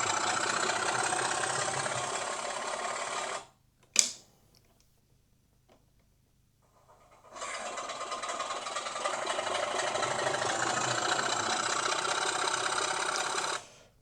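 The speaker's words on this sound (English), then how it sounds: "engine starts up" A model Class 24 locomotive's motor runs on a test rack, giving a steady buzzing whir for several seconds, stopping briefly after a sharp click, then starting up again and running evenly to the end.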